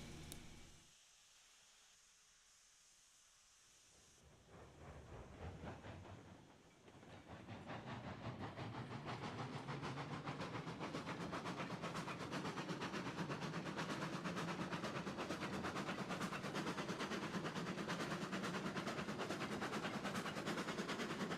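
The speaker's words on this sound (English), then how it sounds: "The Heisler Locomotive Chuff Sounds do not sound like death anymore." A Heisler locomotive in the train game Railroads Online starts with quiet hissing, then settles into a fast, steady rhythmic chuffing and mechanical clatter that holds loud and even to the end; no voices.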